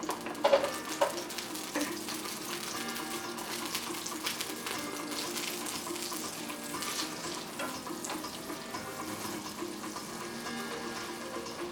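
Whole garlic cloves and butter sizzle steadily in a hot pan, a continuous close hiss with occasional pops and a few clinks near the start, no voices.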